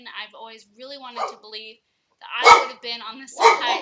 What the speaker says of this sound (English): Yes, that's my dog